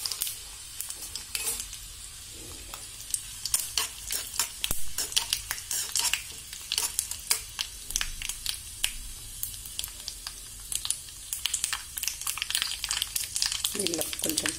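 Mustard seeds, cumin, urad dal and dry red chillies frying in oil for a mint tomato chutney tempering, giving steady sizzling with sharp crackles and pops throughout, close and fairly loud, with no talk.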